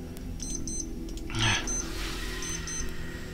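A wristwatch timer beeps in short, thin, high chirps repeated in small groups across the moment, close and fairly clear over a low steady hum, with no talking.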